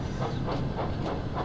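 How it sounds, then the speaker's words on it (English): Toy-like engines from Thomas and Friends rolling along rails in a quarry setting, with a steady rumbling clatter and soft rhythmic clicks repeating about every quarter second, continuous and close. "obviously the sound of the trains"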